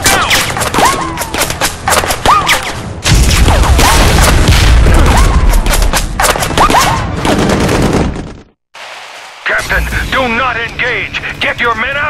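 Rapid volleys of gunfire and booming blasts in the Section 8 sci-fi shooter campaign, loud and dense throughout, with shouted voices and radio chatter over the battle and a brief drop to near silence before combat resumes.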